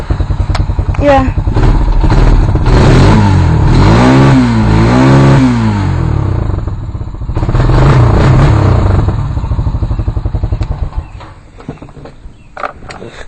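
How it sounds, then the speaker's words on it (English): Honda Rancher 350 ATV, an older machine just after a tune-up, starting close by and revving repeatedly with rising and falling engine pitch before settling to a lower idle, with a brief spoken word. "we got the beast Honda Rancher 350. This usually starts right up"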